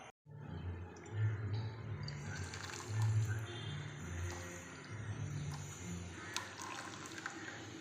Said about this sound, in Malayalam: ശർക്കരയെല്ലാം നല്ലതുപോലെ ഉരുകി വന്നിട്ടുണ്ട് ഇനി നമുക്കിതൊരു അരിപ്പയിലോട്ട് അരിച്ചു മാറ്റാം